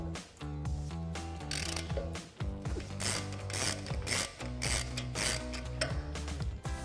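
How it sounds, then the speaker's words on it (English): An 18mm socket on a ratchet loosening the brake caliper bolts on a 2019-2023 Chevrolet Silverado 1500, giving close, rapid bursts of pawl clicking in short repeated strokes with brief pauses between them. "grab our 18mm socket and our ratchet and remove the bottom and top"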